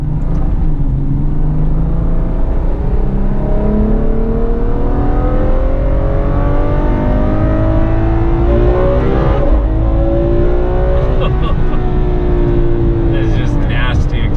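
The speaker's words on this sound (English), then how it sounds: "It's just nasty acceleration." Loud cabin sound of a Ferrari sports car pulling hard in third gear, its engine note rising steadily through repeated climbs over a deep rumble, with people talking over the noise.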